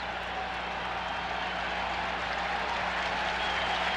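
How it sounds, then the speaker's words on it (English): A stadium crowd applauds steadily after Michigan's last-second 26-24 win over Notre Dame in a 1994 college football game, a dense, even wash of clapping and crowd roar that holds for the whole stretch. "Pardon me while I stand and applaud with the rest of this crowd"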